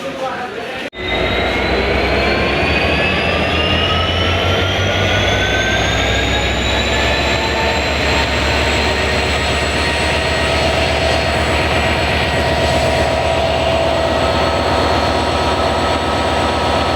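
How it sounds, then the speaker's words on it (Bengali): Two railway locomotive engines at Chilahati station roar continuously and loudly after an abrupt start, a sustained droning engine noise with rising whining tones that holds steady throughout. "দুটো ইঞ্জিন একসঙ্গে ঘোরানো হবে"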